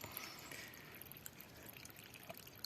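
Spring water trickles steadily out from inside rocks at a wilderness refuge in Portugal, a soft continuous wash of faint, close running water with small scattered drips and no voices.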